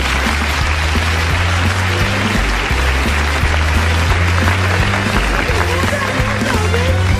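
Sustained audience clapping for a stage magic act fills the whole stretch, dense and steady, with a faint musical tone running low underneath.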